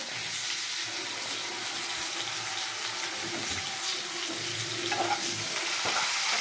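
Pepper tomato curry with home-ground black pepper fries in a pan, a steady soft sizzle with faint stirring scrapes, fairly quiet and close with no voices.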